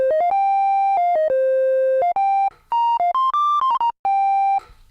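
A 1970s analog monosynth plays a short melody of clean, slightly buzzy sustained tones with triangle-like harmonics, stepping between pitches with brief gaps.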